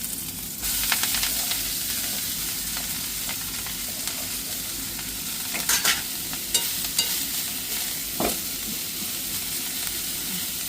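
Spinach stir-fries in a hot pan, a continuous sizzle and crackle with scraping stirring strokes and a few sharper clatters of the utensil against the pan, heard up close without talk.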